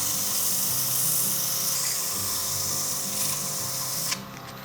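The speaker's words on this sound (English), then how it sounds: "let's sand it for a minute" A wooden spinning top is sanded while turning on a lathe, giving a steady high hiss and whine of abrasive on spinning wood over the motor hum, which drops away sharply near the end.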